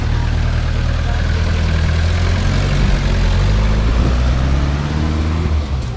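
An old 1950s Oldsmobile in Havana, refitted with a small Russian Lada diesel engine, idles steadily close by, a loud, rough low-frequency clatter with no speech.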